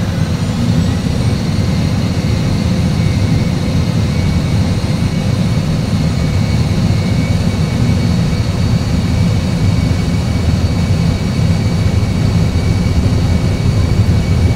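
Airbus A320 jet engines in a flight simulator during the takeoff roll, giving a steady, loud, low roar with a faint high whine that holds level throughout, with no voices.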